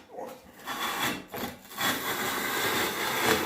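Scraping and rubbing at old silicone sealant in the channel of a shower enclosure, a rough, continuous abrasive rasp with short pulsing strokes, close and fairly loud, with no voices over it.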